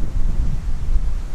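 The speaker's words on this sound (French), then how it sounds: "Gros vent." Strong wind on a golf course buffets the microphone with a low, gusty rumble that swells and dips, with no voices present.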